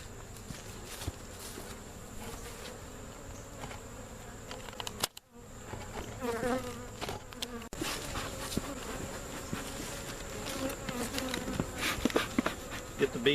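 Honey bees swarming around an opened hive during a beekeeping inspection of a laying-worker colony, a dense continuous buzz close by with occasional handling knocks.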